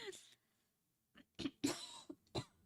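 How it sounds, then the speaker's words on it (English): Several short, sharp coughs from a person indoors, a couple of quick bursts followed by a louder pair and one last cough, close and fairly clear after a brief pause. "Sorry, I have to cough."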